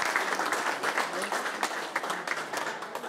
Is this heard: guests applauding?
yes